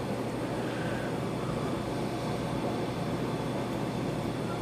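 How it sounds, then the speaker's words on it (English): A furnace runs in a garage on a cold day, giving off a steady, even, broadband roar that holds unchanged at a constant level throughout, with no voices. "I got the furnace going in the garage."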